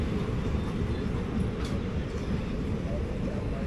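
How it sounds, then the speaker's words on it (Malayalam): Superfast express 22661 from Chennai Egmore to Palakkad races past at high speed, a loud, dense rumble of wheels and coaches that fills the whole moment close by. "ഇതാ എത്തി 22661 ആരക്കോണത്തിൻ്റെ. നല്ല സ്പീഡിലാണ് വരുന്നത്."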